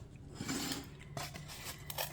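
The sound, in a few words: cutting out a circle of Dollar Tree foam board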